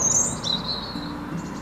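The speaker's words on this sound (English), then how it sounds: "got some birds flying overhead" Birds chirping on a morning in Wroxeter, with high, thin tweets and short warbling calls over soft outdoor ambience, fairly close and continuous with no talking.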